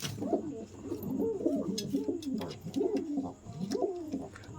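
A pigeon coos repeatedly in a soft, rhythmic series of low, throaty calls, fairly close by, with a little background noise.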